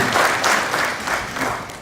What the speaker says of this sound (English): An applause, a round of applause for her, please